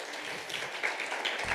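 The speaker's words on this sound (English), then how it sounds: "Please, one more round of applause." Faint, distant applause from an audience, a steady wash of clapping heard softly in the background.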